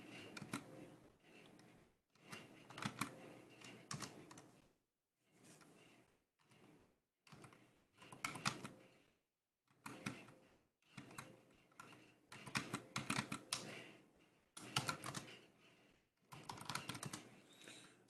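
Someone types on a computer keyboard while entering a Linux shell script command, producing bursts of quick soft key clicks separated by short pauses, close and fairly quiet with no speech.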